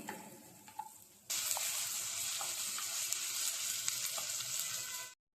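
Onions fry in a pan for aloo kurma. A loud, steady sizzle starts abruptly and holds for several seconds before cutting off, with a few faint clinks before it begins.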